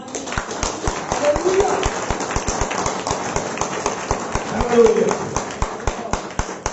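A church congregation claps during a worship service, a steady run of close, evenly spaced hand claps with voices heard alongside.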